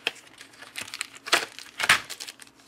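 A plastic packet of electronic components for a guitar pedal breadboard crinkles in close, quiet bursts, with several sharper crackles standing out among softer rustling.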